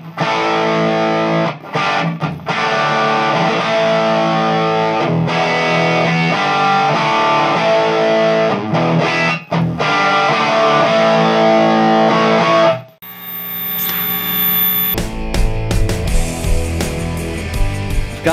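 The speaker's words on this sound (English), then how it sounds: "let's turn on the Plexi. 100 watts, and it's really loud." A Marshall Plexi 100-watt guitar amplifier played loud with heavy distortion, sustained chords ringing for most of the span with short gaps, then a shift to brighter, choppier picking near the end; no talking.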